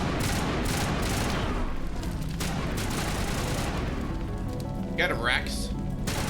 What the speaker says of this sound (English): That's me just shooting a wall.